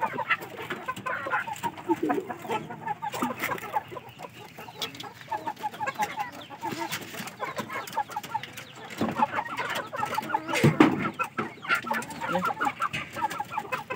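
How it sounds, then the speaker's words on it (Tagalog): An Aseel Shamo rooster clucks and calls repeatedly amid a busy flock of chickens, with steady overlapping poultry chatter throughout. "Ating pasaway na rooster."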